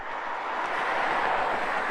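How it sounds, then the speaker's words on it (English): Steady road traffic noise from Highway 61 along Lake Superior's North Shore in Minnesota, a continuous broadband roar of passing vehicles, moderately loud with no talk. "Pardon the road noise,"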